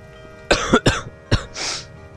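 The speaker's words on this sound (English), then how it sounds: "I'm gonna try to keep the coughing at a minimal" Three sharp coughs in quick succession followed by a breathy exhale, close and fairly loud against a quiet background, with no speech.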